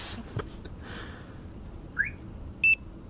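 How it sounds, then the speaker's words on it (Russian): A Starline A91 car alarm gives a short, loud electronic chirp during key fob programming, a single brief beep over faint background noise. "Пошел звуковой сигнал."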